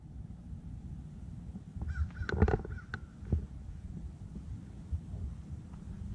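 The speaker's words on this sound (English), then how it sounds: "I hear a bird somewhere." A bird calling in a bayou state park in Westwego, Louisiana: a short cluster of harsh honking calls around the middle, then a single call, over quiet low outdoor ambience.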